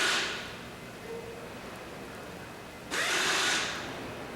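An impact wrench working off a series of fasteners in a 1970s power-tool training setting gives short whirring bursts, one at the start and a louder one near the end, separated by a quieter pause.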